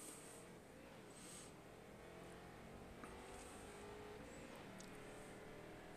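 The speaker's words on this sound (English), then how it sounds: "You can really hear that car wind up." A street stock race car engine drones and rises in pitch as it winds up around a short track at Stafford, distant and continuous faint roar with a light murmur of voices.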